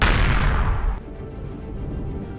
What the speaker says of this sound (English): Looks like, yeah, plasma cannons.